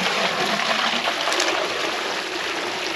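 Five gallons of water dumped fast through a perforated drainage pipe, a steady loud rushing gush with splashing that holds at full strength throughout, close by.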